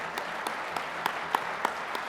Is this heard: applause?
yes